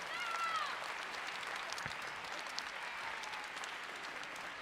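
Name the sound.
audience applause at band concert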